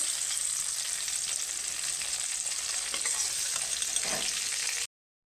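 A dried red chili and panch phoron spice mix tempering in hot oil produce a close, bright sizzle with sputtering and a few stirring scrapes, ending suddenly.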